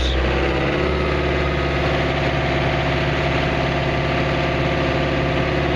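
Excavator engine running steady at raised RPM, a loud, constant low-pitched diesel drone with vibration, close up and with no talk over it.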